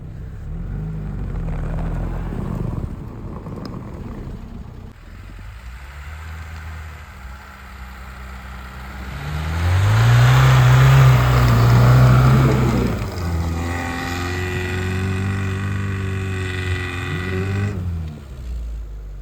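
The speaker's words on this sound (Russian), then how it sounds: "В принципе, Нива едет." A Lada Niva churns through deep snow, its engine droning and revving in uneven surges, straining loudest midway before easing back to a labouring hum, with no speech.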